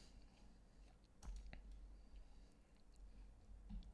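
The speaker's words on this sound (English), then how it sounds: "Can you hear the mouse clicks?" Soft, close computer mouse clicks from a live-streamed trading session, a few sharp isolated ticks over a faint room hiss, very quiet overall.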